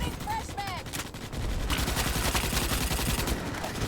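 Friendly fire in the video game Starship Troopers: Extermination: dense, continuous automatic gunfire bursts that stay loud and sustained throughout, with a brief whistling tone early on.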